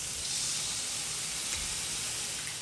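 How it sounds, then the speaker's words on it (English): Katahar and shrimp fry in a pan with coconut milk, giving a steady, even sizzling hiss that holds at a moderate level throughout with no talking. "you're going to mix this together and allow it to fry all the way down until there's no more liquid in the pan"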